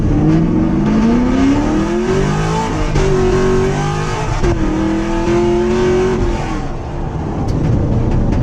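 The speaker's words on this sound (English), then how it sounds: "for an all-motor, basically cam-only car, this thing screams" A naturally aspirated, cam-only tuned car engine revs hard and loud through rising pitch sweeps with brief dips between pulls, close up and steady throughout with no talk.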